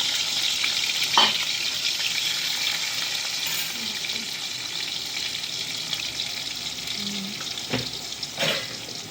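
Potato pieces frying in oil with salt and turmeric in a Bengali home kitchen, a steady close sizzle with occasional clinks of a stirring utensil.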